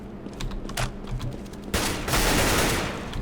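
Gunfire in Counter-Strike: Global Offensive on a custom map, a few sharp scattered shots giving way to a loud, sustained volley of rapid fire that fills the second half.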